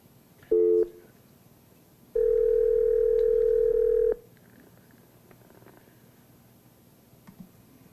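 Telephone line tones during a board meeting call: a short beep, then after a pause a steady two-second dial tone held at a constant pitch, clear and prominent before quiet room noise returns.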